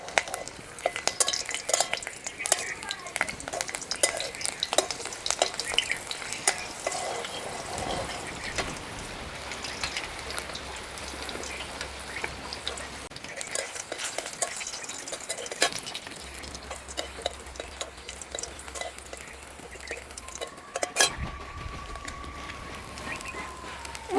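Garlic frying in a pan for a winter cauliflower dish: a close, continuous crackling sizzle with frequent stirring scrapes and clicks throughout.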